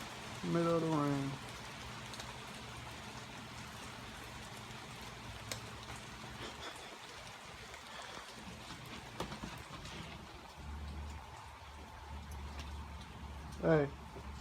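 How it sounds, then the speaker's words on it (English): Rain falls steadily, a faint, even hiss throughout, with a brief high vocal sound near the start and again near the end. "Middle of the rain."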